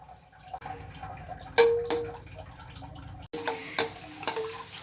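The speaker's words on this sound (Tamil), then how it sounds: "நெய் சேர்த்து முந்திரி பருப்பு நம்ம எடுத்து வச்ச முந்திரி பருப்பை நல்லா ரோஸ்ட் பண்ணிக்கலாம்" Cashews roasting in ghee in a pan while making Ashoka halwa, giving a soft steady sizzle with a few light scraping stirs and clinks, close and fairly quiet, with no talking.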